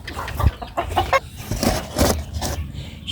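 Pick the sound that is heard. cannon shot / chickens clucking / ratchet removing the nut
chickens clucking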